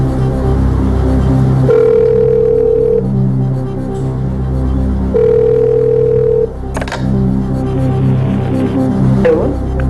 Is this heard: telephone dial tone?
yes